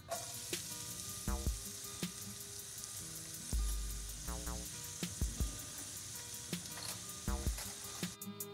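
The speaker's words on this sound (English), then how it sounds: "Add 1/4 cup of oil to pot. Sweat onions and garlic." Onions and garlic sweat in oil in a pot with a soft, steady sizzle, broken by occasional clinks and scraping stirs of a utensil, close and without talk.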